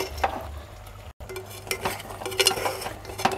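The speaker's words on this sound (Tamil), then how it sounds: "இந்த காய் உப்பெல்லாம் ஒரு வாட்டி கலந்து விட்டுக்கலாம்." Aviyal vegetables being stirred with salt and ground paste, giving a few scattered scraping and clinking strokes of a spoon against the pot, moderately close, with no talking.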